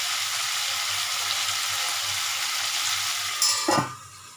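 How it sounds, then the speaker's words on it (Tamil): Bitter gourd sautés in a pan with a steady, close sizzle, then a short clatter of metal utensils or a lid near the end, and the frying quiets afterward. "பாவக்காய் நல்லா வதங்கி"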